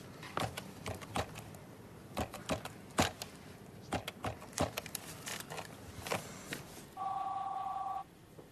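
Sharp clicks and taps scattered throughout, then a steady electronic telephone ring tone sounds for about a second near the end, from a TV drama.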